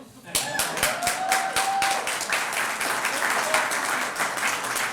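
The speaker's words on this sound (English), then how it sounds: "You saw the governor clapped when I said that" An outdoor crowd applauds the mayor of Saint Paul: dense, steady clapping that starts abruptly and holds loud throughout, with some voices mixed in.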